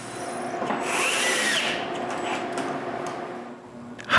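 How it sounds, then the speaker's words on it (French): Power drill boring holes through plywood to fix it to the frame of a wooden bandsaw, a close, steady whine that rises around the middle and then tapers off. "je perce aussi d'autres trous là, pour fixer le contreplaqué au cadre aussi"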